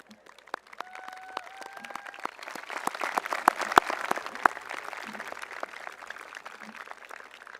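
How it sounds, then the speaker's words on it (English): A graduation audience at Eastview High School's 2021 ceremony breaks into sustained applause in a large hall, the clapping swelling and holding steady with a few sharper claps and brief tonal sounds near the start. "Now you give them a round of applause"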